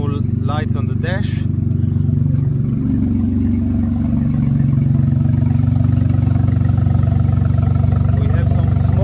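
A Volkswagen Polo with a swapped engine and an untightened exhaust idles with a loud, steady low throbbing rumble throughout, with brief voices early on over the constant drone.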